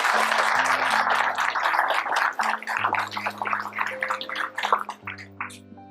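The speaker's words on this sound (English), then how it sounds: "I'd like to give them a round of applause out of appreciation" An audience at a Cape Cod Community College pinning ceremony applauds in a steady, dense round that lasts throughout, with sustained tones sounding underneath.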